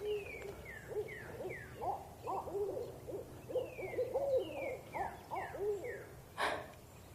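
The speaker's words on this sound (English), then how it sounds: "It's an owl." Owls hoot and call excitedly at night in Brazos Bend State Park in Texas. The cackling hoots are loud and come in rapid, overlapping series, with descending whistled notes and a brief noise near the end.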